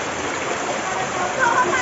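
A flowing freshwater stream that serves as a main water source rushes in a steady, broadband wash, swelling slightly near the end, with no clear speech over it.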